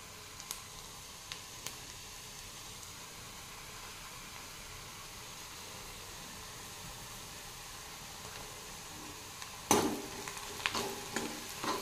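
Onions frying in a pan as cumin seeds are added for a Maharashtrian wild leafy vegetable dish, a steady soft sizzle throughout with a few sharper clinks and spatters near the end.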